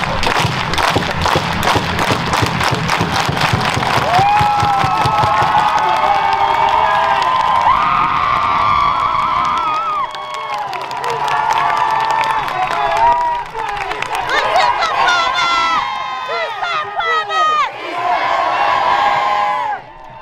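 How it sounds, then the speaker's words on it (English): Crowd at a rally on the steps of the Colorado State Capitol in support of immigrants, cheering, whooping and clapping loudly and continuously, with claps gathering into a rhythmic pattern amid shouting voices. "We're going to do a nice organized unity clap."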